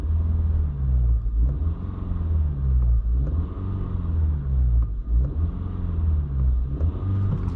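Inside a 2022-2024 Honda Civic Sport 2.0 manual, the engine drones low and steady, revs rising and falling in repeated gentle swells as gears change, heard close with no talking.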